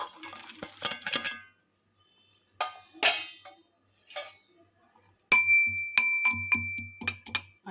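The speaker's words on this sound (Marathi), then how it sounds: "हे पण आपण याचा बारीक करून घेणार आहोत. खलबत्त्यामध्ये टाकून" Garlic and coconut pounded in a stone mortar and pestle, with sharp clinking knocks in irregular bursts separated by short pauses, ending in a quicker run of strikes.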